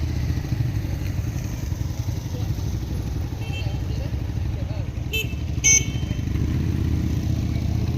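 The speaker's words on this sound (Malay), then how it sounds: "itu motor RC sedang melakukan angka lapan." A motorcycle rides a figure-eight course at a B2/B licence test, its steady mid-range engine drone holding throughout at moderate distance, with a brief clatter near the end.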